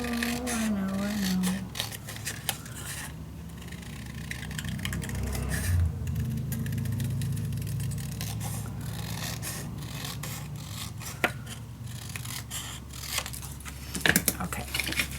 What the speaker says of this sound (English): I'm gonna cut this out.